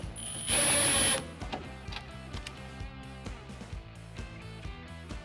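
Bolts are tightened on a fold-out table in a 2021-or-later Ford Bronco, starting with a brief loud burst of power-tool whir, then a long stretch of steady, close ratcheting clicks, with nobody speaking.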